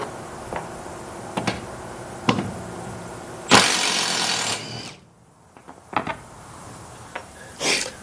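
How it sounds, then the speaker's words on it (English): A power driver backs screws out of wooden trailer deck boards, with short whirring bursts, one louder sustained spin in the middle, and scattered taps and knocks against a steady low background hum. "I'll see if I can't go ahead and unscrew them."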